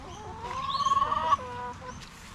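Backyard chooks cluck close by in a short burst of rising, throaty calls over quiet outdoor background.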